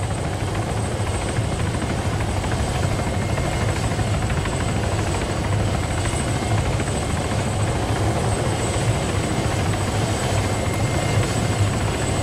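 ADAC rescue helicopter in a roleplay video game, its steady rotor and turbine drone loud and continuous throughout, with no talk over it.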